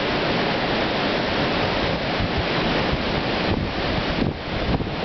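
Hurricane Sandy storm wind roars steadily and loudly, buffeting the microphone with constant broadband rushing and occasional stronger gusts, like heavy surf, with no voices.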